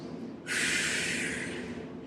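A single deep, sharp breath drawn in through the nose during a gentle stretching session, close and distinct after a brief quiet moment, then holding as a long airy rush.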